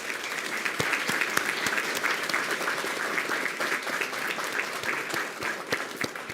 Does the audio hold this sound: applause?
yes